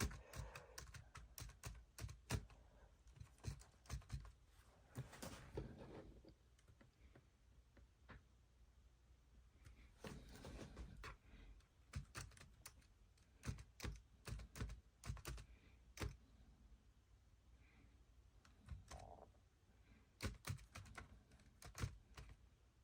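Rapid clicky keystrokes on a cheap eBay Bluetooth keyboard for an iPad, typed in uneven bursts with short pauses, close and fairly quiet over a faint room hiss.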